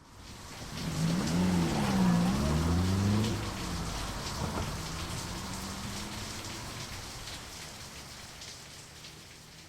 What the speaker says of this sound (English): drove away into the rain